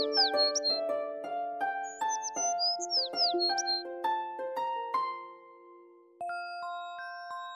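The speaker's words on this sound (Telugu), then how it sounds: "హఠాత్తుగా వారికి ఒక చెట్టుపై నుంచి పక్షి పాడే పాట వినిపించింది" Chirping birdsong from a tree in a forest in an animated fairy tale, bright repeated tweets over a gentle chiming melody, with the birds falling silent partway while the tinkling notes continue.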